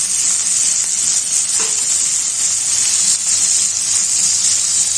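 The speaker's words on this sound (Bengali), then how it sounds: "কুমড়াগুলো এইভাবে তেলের মধ্যে দিয়ে দিই" Pieces of ash gourd hit hot oil in a pan, giving a loud, steady, hissing sizzle that stays close and constant, with a faint stir partway through.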